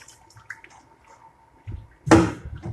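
Water splashes in as it is added to tea, starting after a quiet stretch with soft trickling and then a short, louder gush of pouring near the end.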